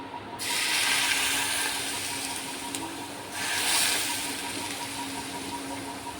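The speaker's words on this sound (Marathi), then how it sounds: "हे गरम तेलच आपल्याला ओतायचं आहे. तेल ओतून घेऊया आपण हे बघा." Hot oil is poured over a Kokani-style green chili pickle, giving two hissing, sizzling surges over a steady low background hum.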